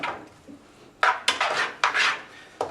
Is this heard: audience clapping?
no